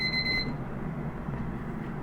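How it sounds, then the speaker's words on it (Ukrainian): An air fryer timer goes off while baking young zucchini, a brief high electronic beep tone at the start, then only low kitchen hum remains. "Працював наш таймер."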